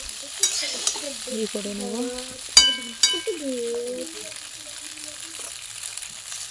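A fried egg with onion is stirred in a frying pan, the soft sizzle broken by a few sharp clinks of the utensil against the pan while someone talks over it.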